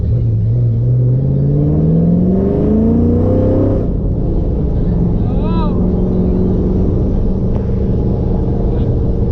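A deep 2010 Camaro SS engine rumble with stage 4 cam, 3-inch exhaust, headers and high-flow cats rises in pitch as it revs up, then settles back into a low idle, loud and close throughout.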